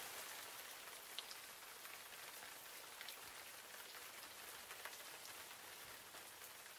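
Steady rain falling and pattering on surfaces outdoors, a soft, even hiss with scattered louder drops, continuous and alone with no voices.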